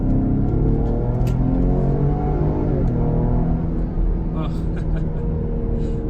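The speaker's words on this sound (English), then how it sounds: "show you me accelerating in Excite mode around a turn with the rear-wheel drive system" A rear-wheel-drive Lincoln Aviator SUV in Excite mode accelerates around a turn, its engine a loud, close, sustained drone whose pitch holds high and then eases slightly.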